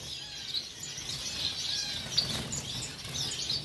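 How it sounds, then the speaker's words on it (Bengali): Blue-faced parrot finches at a finch breeding counter give a steady stream of thin, high chirps and tweets, several birds calling at once at moderate loudness with no talk. "এই কাউন্টারে, প্যারট ফিঞ্চ রয়েছে"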